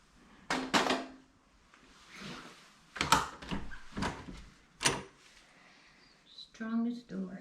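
An old house door is handled, giving several sharp knocks and clunks scattered among quieter shuffling and room noise, with a rattling burst near the end.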